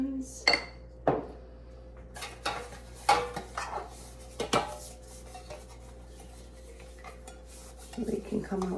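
Metal loaf pans clatter and scrape as they are handled and oiled for banana bread, with a few sharp clanks and rubbing sounds spread unevenly at close range.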